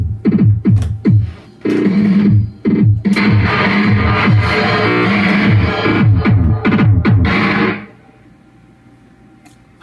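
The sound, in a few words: drum loop from phone played through guitar amp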